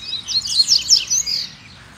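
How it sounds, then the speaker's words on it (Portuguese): A coleiro, or double-collared seedeater, sings a rapid, bright, close series of sharp chirping phrases for about a second and a half before stopping, loud and clear with no talk. "Guarda mansinho. Já sai cantando já. Coleiro show."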